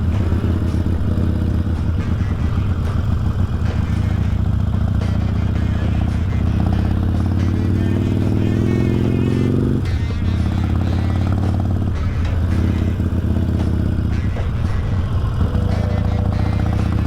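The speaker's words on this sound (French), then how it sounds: "ce que je kiffe c'est Harley, c'est vraiment le couple et ce moteur bicylindre" Harley-Davidson V-twin motorcycle engine running loud and close for the whole stretch, a deep steady rumble with a throttle rise partway through and some mechanical clatter, no talk over it.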